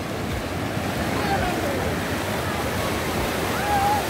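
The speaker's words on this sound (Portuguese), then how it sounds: "E de quebra ainda tem umas ondinhas lá no fundo pra galera do surf aí curtir aquele mar" Small sea waves at Praia do Forte beach in Cabo Frio wash in a steady, loud surf hiss and rumble that continues without pause, with no clear breaks between swells.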